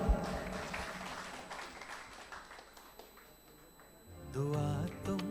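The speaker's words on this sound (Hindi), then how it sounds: "जोरदार तालियां।" Hearty clapping from a gathered audience at a Deepavali class at a spiritual retreat centre, a broad, fairly even wash of applause that fades out before voices take over near the end.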